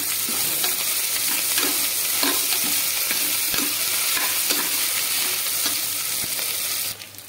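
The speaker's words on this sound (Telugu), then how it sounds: "దీన్ని పచ్చివాసన పోయే వరకు బాగా ఫ్రై చేసుకోవాలి." Ginger garlic paste fries with onions in a hot pan, a loud, dense, continuous sizzle with rapid ticking spatters and stirring scrapes throughout, dropping off abruptly at the very end.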